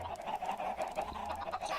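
Chickens clucking in the Minecraft video game, soft repeated in-game clucks heard faintly in quick succession with no talking.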